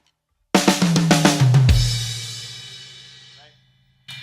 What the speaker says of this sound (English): A good way to start is just come up with a basic 16th note fill that you're comfortable with playing.